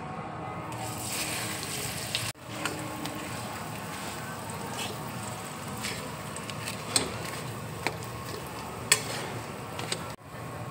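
Mashed paneer frying in two spoons of melted ghee in a hot kadai, a steady close sizzle with stirring scrapes and a few small clinks throughout, no talking.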